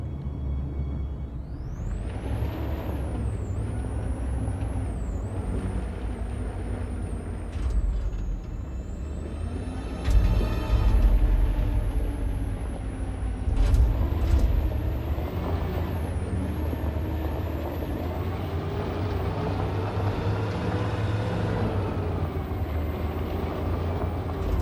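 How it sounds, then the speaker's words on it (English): A truck drives in Detroit: Become Human, a heavy low engine rumble running throughout with a few louder surges and a high whining tone above, with no talk over it. "Okay, let's go get the truck."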